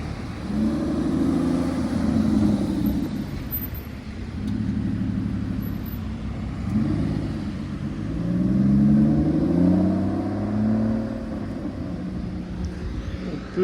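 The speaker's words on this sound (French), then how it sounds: "Petite Aston Martin rapide." An Aston Martin sports car passes nearby with a low engine rumble that rises and falls and swells as it accelerates. The sound is close and continuous and carries no talk.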